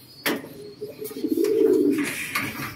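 Racing pigeons arriving at a loft during a club race give soft, low cooing calls with a faint wing flutter, close and clear over quiet background.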